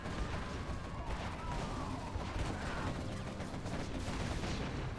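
A C&C Generals Zero Hour battle rages with dense overlapping gunfire, booming explosions and artillery blasts in a continuous loud barrage, with faint in-game unit chatter in places.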